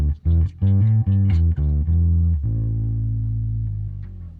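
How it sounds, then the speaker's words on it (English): Distorted bass guitar through an Axe-Fx III dirty SVT amp preset plays a quick run of short plucked notes, then holds one long, warm, gritty note that slowly fades. No other sounds. "here's what a dirty SVT might sound like"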